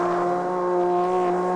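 A Toyota Supra MK5 engine in the CarX Street racing game holds a steady, loud drone with strong harmonic lines. The tone stays even and close throughout, with no talk.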